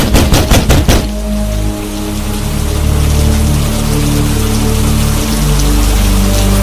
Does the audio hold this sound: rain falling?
yes